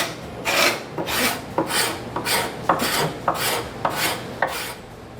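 Wood rasp shaping a sculptured wooden rocker, cutting in any direction: about nine rhythmic, close rasping strokes, each a sharp, gritty scrape, evenly spaced and alone.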